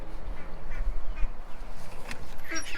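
Young buff ducklings quack and peep in a scattered, irregular chorus at close range, with a few sharper calls rising near the end.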